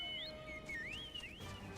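A quiet, high, gliding whistle tune rises and falls in a few sweeping notes, the Final Fantasy XIV call for a chocobo mount, with no other sounds.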